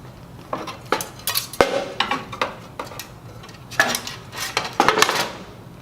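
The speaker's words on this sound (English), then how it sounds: "Lift the bottom platen, flip upside down, and set back onto the grill assembly" Heavy metal bottom platen of a Star two-sided commercial grill lifted, flipped upside down and set back onto the grill assembly, with a run of clanks, scrapes and knocks in uneven clusters, close and clear with no talk.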